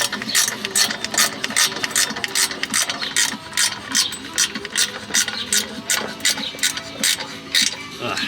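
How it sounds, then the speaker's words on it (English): A hand ratchet clicks rapidly and steadily at close range while Tomei unequal-length headers are bolted onto an FRS, a dense, continuous run of pawl ticks throughout. "we are bolting on the headers"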